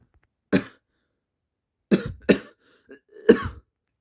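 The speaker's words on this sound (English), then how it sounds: "Dill still seems to be coughing." Several harsh, close coughs come in separate bursts: one alone, then a quick pair, a faint short one, and a final heavier cough, with silence between them.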